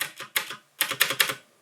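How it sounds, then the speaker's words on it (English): Keys on a budget gaming keyboard with a solid metal-plate chassis are pressed hard, producing two quick bursts of sharp, clacky strokes separated by a short pause, close and fairly loud. "when you press the keys hard, you can hear a weird ringing"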